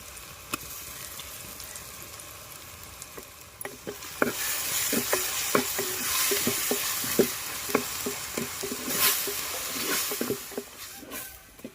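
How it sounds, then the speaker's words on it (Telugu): Guineafowl curry being stirred in a pot after a cup of tomato paste goes in, a steady frying sizzle with repeated soft scraping strokes of the spoon, close and continuous, no talking. "ఇప్పుడు కప్పు టమాటా పేస్ట్ వేసి కలుపుకుందాం"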